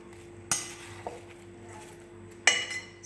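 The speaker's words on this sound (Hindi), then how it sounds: "चम्मच की मदद से अच्छे से करेंगे इन सारी चीज़ों को मिक्स।" Spoon clinking against a bowl while mixing fruit chaat with apples, two distinct sharp metallic clinks and a softer tap in a quiet kitchen.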